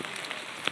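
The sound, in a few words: rain falling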